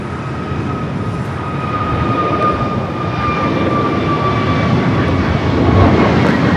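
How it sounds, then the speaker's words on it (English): An American Airlines A321neo takes off at Los Angeles International Airport, a loud continuous jet engine roar with a faint steady whine, building gradually in strength across the clip, with no talk. "Next takeoff, American Airlines Flight 2994 heading to Dallas. A321neo."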